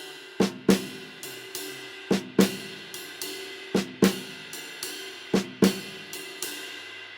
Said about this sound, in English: figure out what's going on with the ride cymbal and the snare drum.